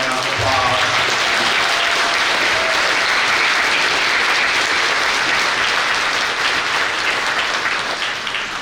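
A packed audience at a high school graduation ceremony in Unalaska claps for two staff members, loud, dense applause continuing steadily, with a brief voice audible near the start.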